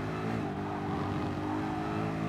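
Race car engine in Gran Turismo Sport droning and revving steadily at high pitch, a loud continuous tone with harmonic layers that waver slightly throughout, no voices over it.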